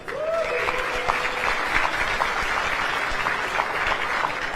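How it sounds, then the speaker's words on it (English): Sustained crowd applause at the Nā Hōkū Hanohano Awards pre-show, honoring the Board of Governors; many hands clap steadily at moderate distance with a faint voice over the start. "Please, a round of applause for our Board of Governors."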